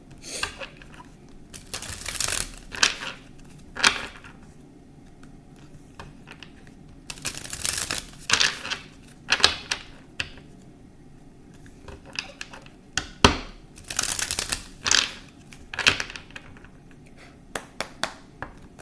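Tarot cards being shuffled by hand in bursts of riffling and soft slapping, clustered into several short rounds with quiet gaps between, close and fairly soft.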